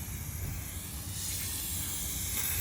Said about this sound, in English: I'm spraying the engine degreaser and just spray it in all the cavities where the gasket's gonna go.